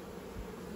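A brief, steady drone of honey bees hums around an open hive being worked frame by frame, close and unbroken.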